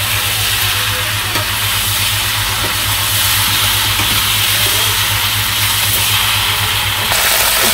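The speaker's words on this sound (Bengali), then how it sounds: "আমি ঝোলটা দিয়ে দিই।" Broth is poured into a pan of browned meat in a village kitchen, producing a loud, steady sizzle and hiss with a low hum underneath that holds constant throughout.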